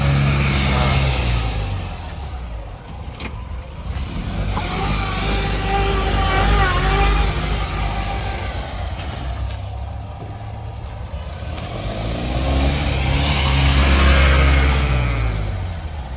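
A 2023 Tata Ace Gold petrol mini truck with a 900 kg payload runs close by, its small engine droning and revving up and down in waves without any talk.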